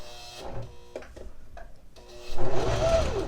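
A sewing machine stitches a single layer of scarf fabric, with a few soft ticks and clicks followed by a short, louder burst of rapid whirring and tapping near the end.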